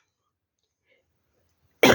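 A single sharp cough bursts out, close and loud, after a stretch of near silence.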